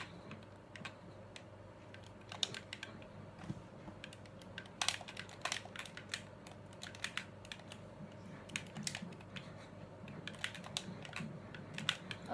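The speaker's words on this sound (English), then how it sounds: "they think my controller sounds like a keyboard and mouse" Soft, rapid clicking and tapping of buttons, irregular bursts of small plastic clicks, quiet and close.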